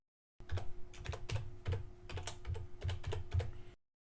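Rapid, steady clatter of keys on a computer keyboard while an email and password are entered during web hosting account signup, close and clear, with no voices.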